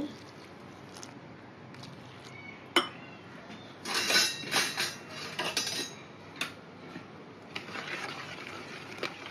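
A spoon stirs a milk and sugar mixture for Tirupati laddu in a metal vessel, making light, irregular clinks and scrapes close by, with a brief flurry of quicker stirring in the middle.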